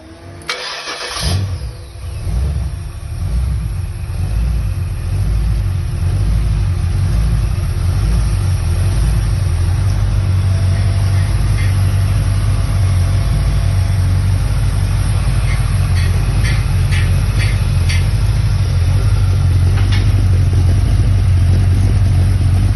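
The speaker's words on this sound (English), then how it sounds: "I have a video of this engine on test bench." An engine on a test bench cranks and fires, then settles into a loud, steady running drone with a deep rumble for the rest of the stretch.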